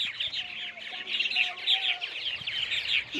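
Purple martins at a large backyard colony of about 94 nesting pairs, a dense, continuous chorus of overlapping chirps and warbles close by, with no talk.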